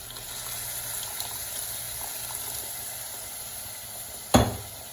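A steady, hissing wash of one cup of water pours into a hot pan of tomato puree and chicken, sizzling evenly throughout, then one sharp knock near the end.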